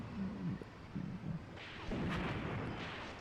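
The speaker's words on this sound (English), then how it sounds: "returning fire possibly to our Soviet tank destroyers over here on the north side" Tank gunfire in the WWII Eastern Front wargame Graviteam Tactics: Mius Front, with Soviet tank destroyers in the battle. Muffled cannon booms and rumbling blasts sound at a distance, and a louder burst comes in the second half.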